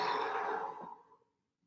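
A single deep inhale during a breathing exercise, an airy, breathy draw lasting about a second that fades out, faint and close with no talking.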